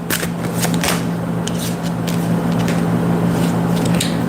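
Oracle cards being shuffled by hand, a steady papery riffling and sliding that runs continuously at close range over a low background hum, with no talking.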